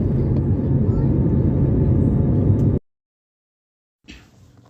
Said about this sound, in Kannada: ನಮ್ಮ ವಿಮಾನ ಬೆಂಗಳೂರಿಂದ ಹೊರಟು ಆಕಾಶದಲ್ಲಿ ಹಾರ್ತಾ ಹಾರ್ತಾ ಕೊಚ್ಚಿ ಕಡೆ ಪ್ರಯಾಣ ಬೆಳೆಸ್ತು